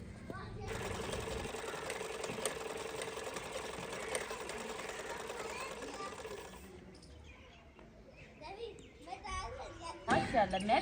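A sewing machine stitches a suit in a village mud house, whirring steadily for several seconds before stopping, while children chatter and play nearby.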